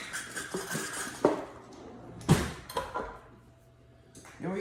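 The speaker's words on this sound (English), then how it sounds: "I want to scrape down the sides of the bowl" A spatula scraping around the sides of a mixing bowl of biscotti dough: scattered scrapes, knocks and clatters, with a few sharper clunks against the bowl, fairly close and quiet, no talking.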